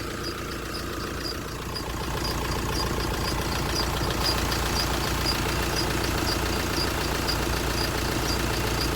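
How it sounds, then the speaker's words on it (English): A VW Crafter 2.0 TDI diesel van engine idles steadily and close by, a continuous low rumble with a rapid, even knocking rhythm throughout, heard alone without voices while the vehicle is investigated for throttle-related fault codes. "I have started the engine"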